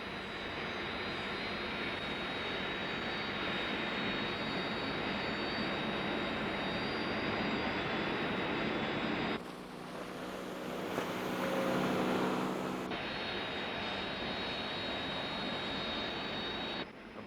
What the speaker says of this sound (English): Search aircraft launched